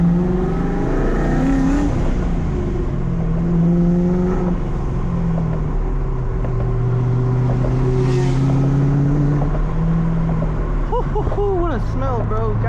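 A Ford Mustang driving with low oil pressure and a suspected oil leak, its engine droning steadily with rising and falling pitch as it pulls through gears, joined by a voice speaking.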